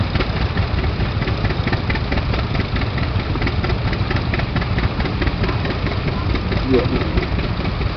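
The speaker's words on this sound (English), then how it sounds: "Chamberlain 306, 6-cylinder Perkins motor." A Chamberlain 306 tractor with a six-cylinder Perkins engine idles with a steady, even diesel chug, heard fairly close. A voice briefly says a word over the engine.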